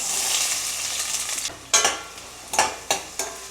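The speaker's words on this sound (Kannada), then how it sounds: "ಮೊದಲಿಗೆ ಎಣ್ಣೆ, ಈರುಳ್ಳಿ ಹಾಕೋಣ." Onions frying in oil in a pan, a hissing sizzle followed by several sharp stirring scrapes spaced a beat apart, close and clear with no voices.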